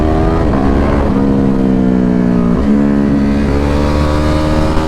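A 2021 Ducati 950 Hypermotard with a flash tune accelerates hard on a test run, its engine loud and close, revving steadily through the gears with a brief dip in pitch at each shift.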